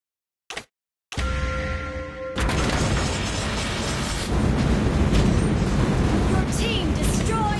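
A turret is destroyed in Mobile Legends: a short blip, then a loud, sustained crashing boom and rumbling debris that keeps swelling for several seconds.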